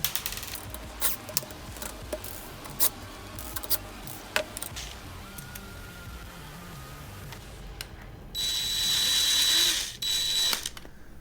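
A metal bracket being unscrewed and pulled from a budget gaming PC case: quiet scattered clicks and ratcheting taps over a steady room hiss, ending in a louder, longer scraping, buzzing stretch of removal.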